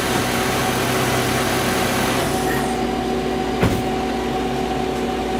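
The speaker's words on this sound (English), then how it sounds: "Car is running, air compressor working fine." A 2010 Nissan Altima idles with its AC compressor engaged after a clutch-failure replacement, a loud, steady engine drone with a constant whine and one brief clunk partway through, no talking.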